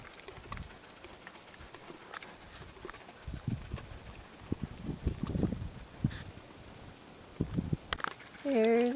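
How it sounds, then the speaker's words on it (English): A pony's hooves clip-clop over a steep, rough trail, scattered irregular steps close by with brief voices and outdoor rustle around them. "There's my pony."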